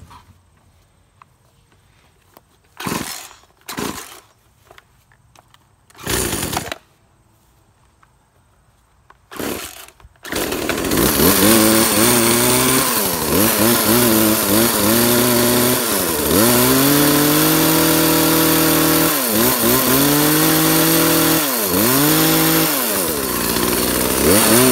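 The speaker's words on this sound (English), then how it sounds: "first cut with this new chainsaw." A new STIHL MS271 Farm Boss chainsaw makes its first cut after a few brief knocks and handling sounds, then the engine roars loud and close for over ten seconds, its pitch dipping and rising as it bogs into the wood.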